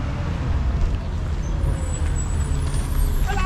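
A bus on a Uruguayan coastal road rumbles loudly and steadily up close, with traffic noise around it and a faint air-brake hiss near the end.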